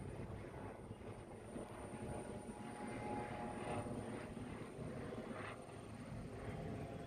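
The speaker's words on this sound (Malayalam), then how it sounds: "ഹെലികോപ്റ്റർ ഉണ്ടല്ലോ." A helicopter drones faintly overhead near Vaikom Mahadeva temple, a steady distant rotor hum that stays low and even throughout.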